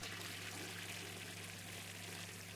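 A game character urinates into a toilet in Denizen, a steady, quiet trickling stream of liquid over a low constant hum, with no talking.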